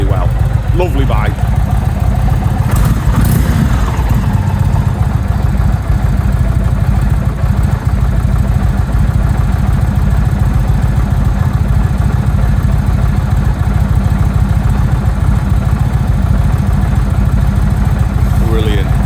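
An Indian Springfield Dark Horse motorcycle engine idles steadily up close, a loud continuous low throb with a faint brief voice near the start.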